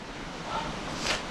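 Rushing water of Cucumber Falls on Cucumber Run at Ohiopyle in December, a steady, fairly faint wash with a little wind buffeting the microphone.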